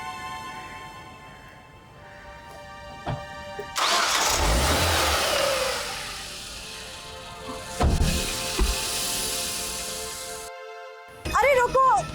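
A car engine turns over around four seconds in, swells into a steady mid-pitched drive-away rumble that fades gradually, with a sustained musical score underneath; a brief thump follows, and a voice calls out near the end.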